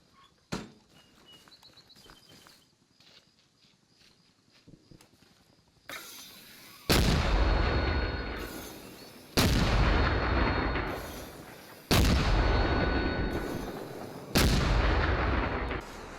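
Mortar rounds in Arma Reforger land as four heavy booming explosions at steady intervals, each with a long rumbling decay, after a quieter stretch of light clicks and faint ambience.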